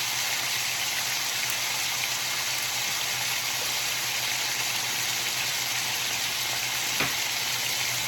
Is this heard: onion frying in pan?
yes